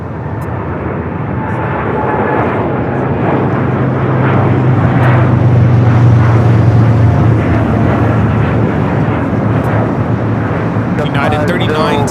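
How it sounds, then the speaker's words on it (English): A United Boeing 787-10 Dreamliner bound for Tokyo Haneda takes off at LAX, with a steady, loud jet engine roar building and sustained throughout while people talk over it. "United 39 taking off to Tokyo Haneda on the 787-10 Dreamliner."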